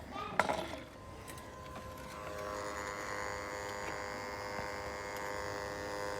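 A heat gun rework station set to about 500 degrees blows hot air onto a dual in-line IC package to desolder it, giving a steady airy whine and hum that builds after a brief clunk and holds on evenly.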